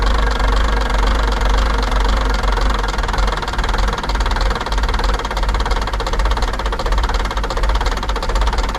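A Volvo F7 truck's diesel engine idles loud and close, a steady dense knocking rumble with constant vibration and no break throughout.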